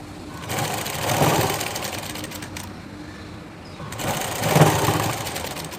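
Sewing machine stitching a blouse runs in two steady bursts, a fast close mechanical whir with rhythmic clatter, briefly easing in between, with no voices.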